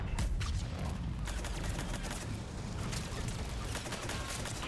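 Dense, continuous gunfire in the sci-fi shooter Mass Effect 3 aimed at the player, a loud, unbroken barrage of rapid shots and booms with no talking over it.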